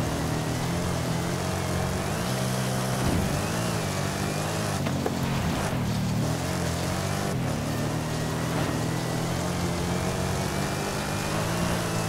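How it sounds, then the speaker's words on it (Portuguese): A supercharged Ford F-150 Shelby pickup in the Forza Horizon 5 racing game runs a continuous loud engine drone, with pitch dips and rises as it shifts and accelerates, and no talking. "O motor tem bastante torque por conta do supercharger, tem uma potência legal"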